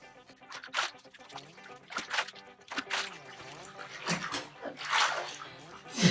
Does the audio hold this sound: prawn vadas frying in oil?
no